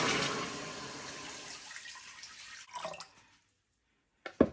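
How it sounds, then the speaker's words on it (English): Water pours into a cooking pot of okra soup with bitter leaf, a close splashing stream that tapers off, followed by a few faint clinks and a short sharp knock of a pot or utensil. "I'm going to add some water"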